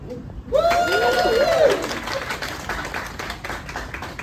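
An audience at a launch event for an immersive Grease movie musical breaks into sudden applause and shrill cheering after a brief quiet moment, loud whoops at first, then steady clapping that gradually thins.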